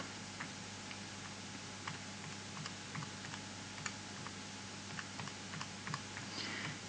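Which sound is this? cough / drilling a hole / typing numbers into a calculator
typing numbers into a calculator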